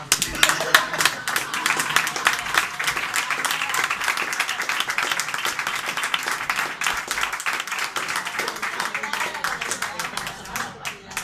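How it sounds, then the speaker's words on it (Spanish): A studio audience claps in a steady, dense round of applause, close and continuous, with a voice talking faintly underneath near the end. "Venga, un aplauso"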